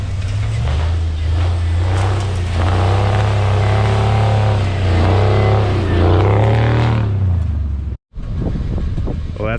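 A Chevy beater truck's engine rumbles and revs while it climbs a rock off-road in winter: a loud, low drone rises and falls with wind buffeting the mic, then cuts out briefly before resuming.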